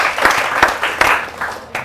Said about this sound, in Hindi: एक बार जोरदार तालियां हो कमल आग्ने।